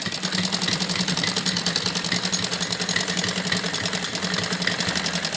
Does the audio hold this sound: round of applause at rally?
no